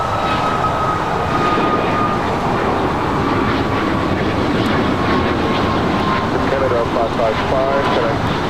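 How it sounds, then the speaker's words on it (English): Air Canada Boeing 737 MAX 8 taking off from the south side at LAX bound for Vancouver, a loud sustained broadband jet roar with a whining engine tone, heard from a distance and steady throughout. "Next takeoff here on the south side, Air Canada Flight 555 heading to Vancouver,"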